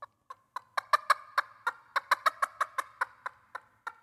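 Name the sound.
turkey call with hard inner material producing a clear note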